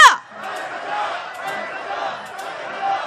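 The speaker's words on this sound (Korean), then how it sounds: "구호를 함께 같이 외쳐주십시오." A protest crowd at a candlelight march chants slogans together, a dense, steady wash of many voices at mid distance that swells and eases without a break.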